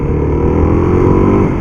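Suzuki DRZ400S dual-sport motorcycle engine pulling hard through the low gears, a steady close-up drone with rising, layered harmonics and no voices over it.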